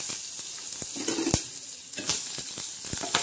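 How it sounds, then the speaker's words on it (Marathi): Curry leaves sizzle and crackle in hot oil for a tempering, a loud steady frying hiss broken by sharp pops and spits, close up with no talking. "लगेच कढीपत्त्याची बी फोडणी होऊन जाते"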